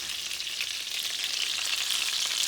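Meatballs for Italian wedding soup fry in oil in a frying pan, a steady bright hiss of sizzling fat, moderately loud and close, with no talking over it.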